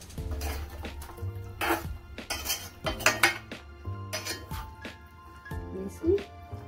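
Cardamom pods, shahi jeera and curry leaves are stirred in a cooking pot for a Punjabi-style chicken curry, giving repeated close metallic scrapes and clinks of a spoon against the pot at an uneven rhythm.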